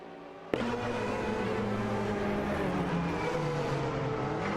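Aston Martin AMR1 and Porsche 962C Longtail race cars in an AI racing video game, engines snapping in abruptly then holding a dense layered high-revving drone with shifting pitches, loud and steady with no talk.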